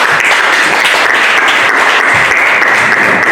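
A church audience at PCEA Membley Church applauds during a seminar, with dense, loud clapping sustained evenly from start to finish.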